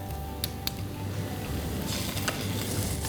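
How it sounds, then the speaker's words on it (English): Ginger garlic paste sizzles in hot oil in a pan while being stirred for a Bengali fish curry, a steady crackling hiss with a few sharper pops and scraping stirs, close and alone. "Let's add some ginger garlic paste."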